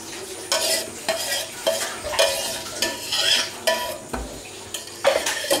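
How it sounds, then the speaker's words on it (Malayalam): Fresh cream being stirred in a bowl while making beetroot ice cream, with repeated scraping and swishing strokes of a utensil against the bowl and occasional light clinks, heard close with no talking. "ഇനി നമുക്കിതെല്ലാം കൂടി ഒന്ന് മിക്സ് ചെയ്തെടുക്കാം."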